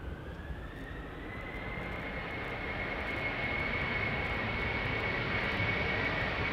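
A jet plane spools up and takes off on Schiphol's Polderbaan runway, a loud continuous engine roar with a rising whine that swells steadily as it nears.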